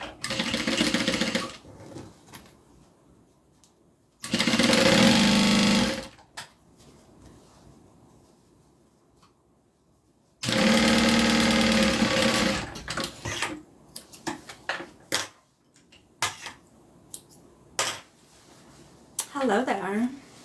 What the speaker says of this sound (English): So I'm just gonna line it up and sew.